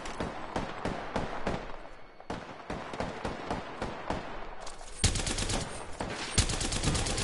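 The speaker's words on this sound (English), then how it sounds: "I'm putting shots on him." A video game weapon fires in rapid repeated shots, steady rhythmic bursts that turn into a denser, sustained stream of automatic fire near the end, loud and close with no talk over it.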